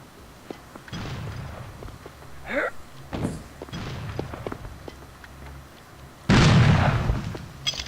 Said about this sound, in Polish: Czyli coś do mnie strzela.